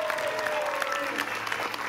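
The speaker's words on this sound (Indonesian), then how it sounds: "Boleh minta tepuk tangan buat Waktu Indonesia Timur." A brief, dense burst of audience applause at a stand-up comedy show in Indonesia, steady crowded clapping throughout.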